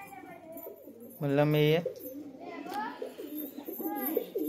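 A pet pigeon gives a single soft rolling coo, close by, while someone talks over it and other voices murmur around.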